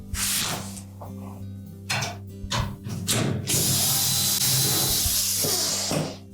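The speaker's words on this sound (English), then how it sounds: "there's typically 3 1/4-inch hex head screws located along the bottom edge. We'll need to remove those." A power driver backs quarter-inch hex head screws out along the bottom edge of a Whirlpool washer access panel: short whirring bursts, then a steady, loud, close grinding whir with metallic rattling and no talking.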